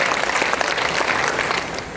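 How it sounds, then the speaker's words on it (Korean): A church congregation claps steadily and loudly for a couple of seconds, the applause thinning slightly at the end. "영광의 박수 한번 드리겠습니다"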